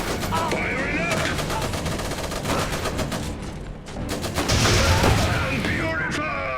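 Gunfire from the Iron Harvest strategy game: dense bursts of rapid shots and rattling machine-gun volleys run continuously and loudly through the whole stretch, with a swell of heavier fire near the end.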